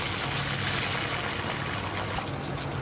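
A steady, continuous rush of water, half a glass poured into a hot pan of frying stuffed eggplant, with a faint sizzle, close and even throughout.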